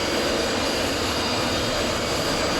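A Vautour IIN jet in Microsoft Flight Simulator roars steadily during its takeoff run, a loud, constant broadband engine rush with a high whine, with no voices.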